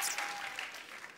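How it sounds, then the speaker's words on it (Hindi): Steady applause from a studio audience on a comedy talk show, a dense wash of clapping at moderate volume with no voices on top. "आप सबकी तालियों के बीच इनवाइट करना चाहूंगा मिस्टर उमंग कुमार को।"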